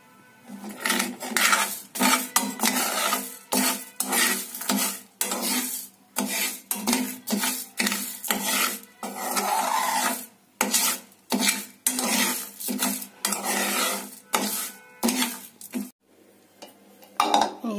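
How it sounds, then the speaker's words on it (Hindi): Ubtan ingredients dry-roasted in a pan, with repeated scraping and stirring strokes of a utensil against the metal, a rhythmic series of rasping bursts close up, with no talk. "तो पहले इनको भून लेते।"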